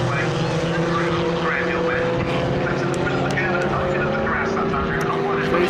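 Pre-1990 Formula Ford race cars race at Brands Hatch, with engines droning steadily and loudly throughout, overlaid by a race commentator's voice.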